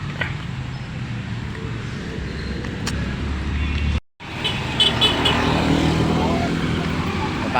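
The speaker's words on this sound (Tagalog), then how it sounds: "Ayan driver sa tricycle oh." A motorized tricycle rumbles along a road in Marilao, Bulacan, its engine loud and close amid steady traffic noise, with a brief cut partway through and a horn toot; people talk over it.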